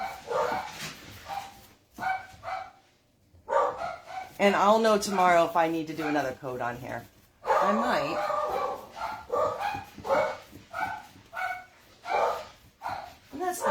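Dogs bark, yip and whine indoors in repeated bursts during a furniture painting session, moderately close and mixed in with someone talking.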